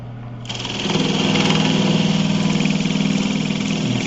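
A woodturning lathe spins up and cuts wood for a bird feeder, a loud steady motor whine that starts abruptly and holds with a rough cutting texture throughout.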